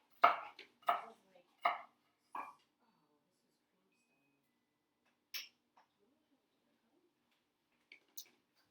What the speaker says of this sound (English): I'm just cutting them into slices, and then I'm going to dice them from there